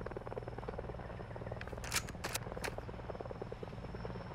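Helicopter in the Call of Duty video game, a steady low rotor drone running throughout with a few brief sharp higher bursts of game noise over it; no talk.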